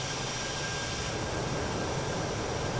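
Just Flight RJ airliner engines in Microsoft Flight Simulator 2024, a steady broadband jet roar with a faint high whine, continuous and loud throughout with no talk.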